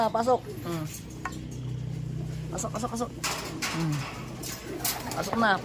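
Pigeons coo softly as they come down to land, with a burst of flapping wings partway through, and voices talking nearby.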